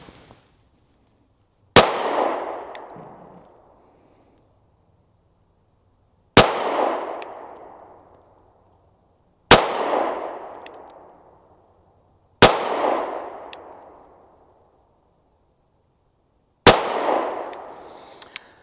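Five sharp pistol shots firing Buffalo Bore .380 ACP +P ammunition with 80-grain Barnes JHP bullets, loud close cracks spaced a few seconds apart at a range, each trailing off in a decaying echo.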